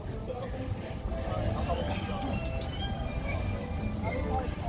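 A train rolls past at the Epcot theme park, giving a steady, moderately loud rumble with faint rail squeals. Background chatter from a crowd runs underneath.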